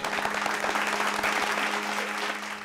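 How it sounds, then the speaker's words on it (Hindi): A crowd at a live comedy show claps steadily and loudly, a continuous wash of hands that eases slightly toward the end, with a faint steady hum underneath. "ठोको ताली।"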